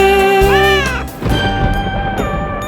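Cartoon-style kitten meows from a children's nursery rhyme about three kittens, a few drawn-out sung mews with sliding pitch over music, fairly loud and close.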